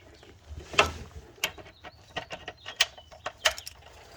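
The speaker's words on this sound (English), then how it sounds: "Have the ratchet to loosen," Ratchet loosening the oil drain plug on a 2023 BMW M340i xDrive, a series of sharp metallic clicks in uneven bursts, close and fairly quiet against a soft background.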